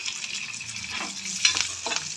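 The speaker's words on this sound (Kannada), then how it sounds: "ಈರುಳ್ಳಿ ಒಂದು ಸ್ವಲ್ಪ ಫ್ರೈ ಆಗಿದೆ." Sliced onion, three green chilies and curry leaves fry in hot oil for chicken pepper dry, giving a steady close sizzle with a few stirring scrapes and small crackling bursts toward the end.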